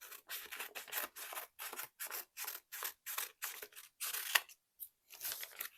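Scissors snipping while a diamond art kit is packed up, a steady series of close, crisp rasping cuts with brief pauses between strokes and no voices.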